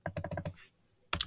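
Several quick keystrokes tapped on a computer keyboard, a short burst of about six clicks, then a pause and a final pair of louder key presses, close and fairly quiet.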